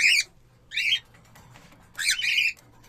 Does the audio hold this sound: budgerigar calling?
yes